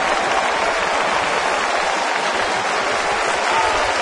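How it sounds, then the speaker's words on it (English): A baseball crowd at a 2010 Cubs at Dodgers game gives a steady, loud ovation, a dense wash of applause that holds evenly throughout. "a nice ovation for Vicente Padilla from the crowd"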